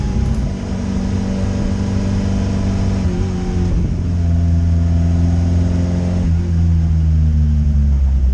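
Fiat X1/9 engine under way on a first test drive with a custom exhaust and a failing clutch, a steady mid-pitched drone with low harmonics that dips and shifts pitch around the middle, then holds on, close and loud with no talk.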